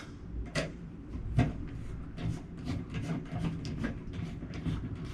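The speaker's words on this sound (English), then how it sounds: "So once it's in, we just advance these screws." Screws are turned by hand to secure a network box cut into a wall, giving faint, close clicks, ticks and rubbing scrapes in an uneven run.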